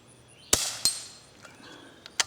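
Low-noise .22 rimfire rounds fired outdoors at a metal squirrel target, with two sharp snapping reports close together followed by fainter ticks and a final crack.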